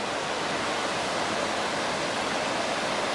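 A river rushes past in a steady broadband roar as hikers cross it on a Pacific Crest Trail route, loud and close, with no voices above the constant flow.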